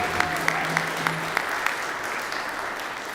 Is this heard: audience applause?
yes